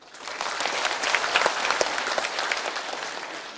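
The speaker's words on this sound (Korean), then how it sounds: "뜨거운 박수로 한번 환영해 주셨으면 하겠습니다" An audience at a National Assembly forum welcomes bereaved families of past civilian massacre victims with warm applause, a dense, even clapping that swells quickly and holds steady for a few seconds.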